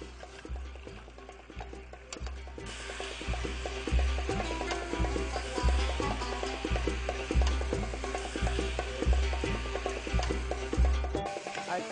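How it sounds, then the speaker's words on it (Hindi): Chicken browning over raised heat in a pan while being stirred to coat it in spices, a steady close sizzle broken by regular scraping, ticking strokes of the spoon throughout. "अब आग थोड़ी सी ऊंची कर लें, चिकन अच्छी तरह भूनें।"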